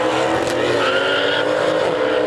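Drag race cars accelerating at a drag season opener, with a Mercedes racing, a loud steady engine roar that rises in pitch, close and sustained.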